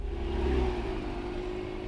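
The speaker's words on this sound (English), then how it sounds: "I can activate the car by just flooring it" An Acura NSX Type S engine revs hard and holds a loud, steady roar, close and continuous with no talking.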